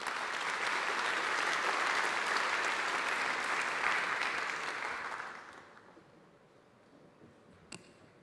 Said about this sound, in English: Let us welcome him with an applause.